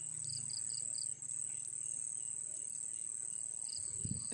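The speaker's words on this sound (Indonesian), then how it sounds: "Kebanyakan jengkrik." Crickets chirp steadily through a quiet night, a continuous high trill with a few brief insect calls over it, broken by one short dip.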